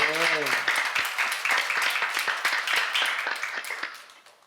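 Congregation clapping during a church seminar sermon, a dense crackle of many hands that carries on steadily for several seconds and then tapers off. A short voiced sound is heard at the very start.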